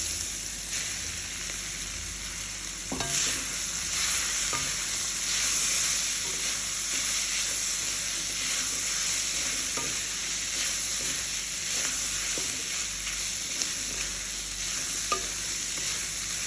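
Boiled noodles tossed with cooked vegetables in a hot pan for restaurant-style Indo-Chinese veg noodles, a steady sizzle broken by repeated scraping stir strokes, close and alone with no voices.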